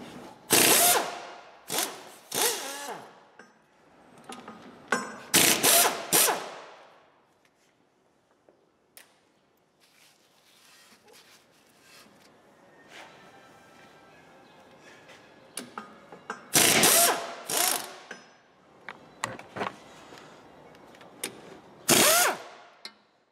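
A ratchet wrench unscrewing the right drive shaft at the gearbox side of a Skoda Fabia. Several bursts of fast, loud clicking come at close range, separated by quieter pauses, with no talking.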